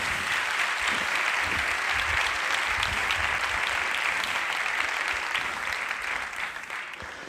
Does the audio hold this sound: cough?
no